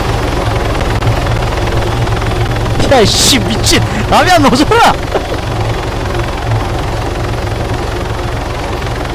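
Helicopter rotor thumping steadily through an Arma 3 zombie-mode match, mixed with a few sharp bursts of weapon fire, while players shout and talk over it.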